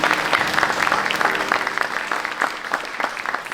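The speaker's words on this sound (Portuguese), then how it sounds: "Uma salva de palmas para eles." Steady applause from a theatre audience at the Teatro Faialense, Sporting Club da Horta centenary celebration, for a dancing couple. Dense and continuous, with a faint murmur of the crowd beneath.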